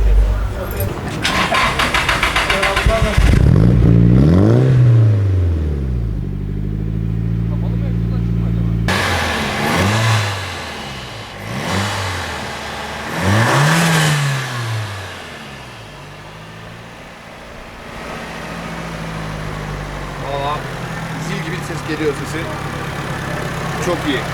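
A Nissan 200SX four-cylinder SR engine cranks and catches, then revs up and down in several rising and falling sweeps, close by, with people talking over it.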